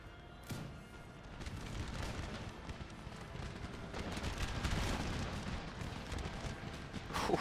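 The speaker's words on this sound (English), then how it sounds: "These guys are going to get absolutely massacred by the amount of artillery I'm putting on them, and gunfire for that part as well." Artillery and musket gunfire in an Empire: Total War battle, dense overlapping booms and crackling volleys that roll on continuously for several seconds, with no voices over them.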